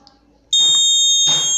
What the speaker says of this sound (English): So if I am giving the buzzer